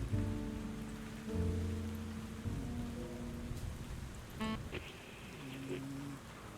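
Rain falls steadily in The Ratline game, a soft continuous patter under low tonal music, with a few brief chime-like notes; no one talks.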